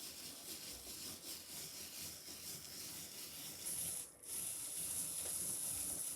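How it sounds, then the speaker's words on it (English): Steady close rubbing and scraping as craft embossing material is worked by hand into adhesive on a snowflake die-cut card project, a continuous dry hiss with a brief pause near the end. "Now we rub it into the adhesive."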